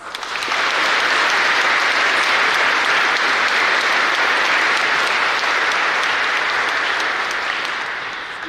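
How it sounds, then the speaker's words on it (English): An audience at a National Honor Society induction ceremony applauds the Stella Maris chapter members: a dense, steady clapping that swells quickly, holds loud for about eight seconds and tapers slightly at the end. "Let's give the official members of the 2026 Stella Maris chapter of the National Honor Society a round of applause."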